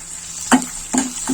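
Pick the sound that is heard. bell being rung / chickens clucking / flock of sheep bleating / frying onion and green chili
frying onion and green chili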